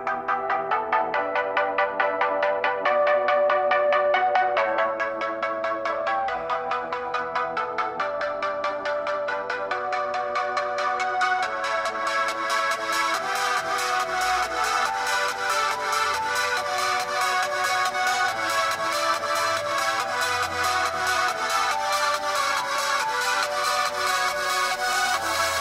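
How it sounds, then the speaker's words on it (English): A song plays through the loudspeaker of a Huawei Mate 9 phone at full volume, a steady stretch of music with a sparse opening that fills out into a fuller, brighter mix about halfway through. "So let's try the second song for the Mate 9."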